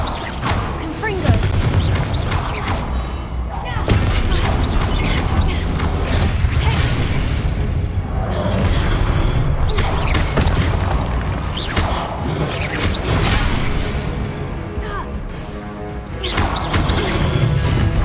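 Confringo spell in Hogwarts Legacy blasting stone statues: repeated loud smashing crashes and booms, with crumbling debris and mechanical clatter running throughout, under a busy game soundscape.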